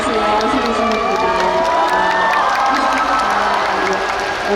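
An audience at an outdoor stage for a film open talk claps and cheers loudly and steadily, with whoops and raised voices over continuous applause, as a host's amplified voice runs underneath.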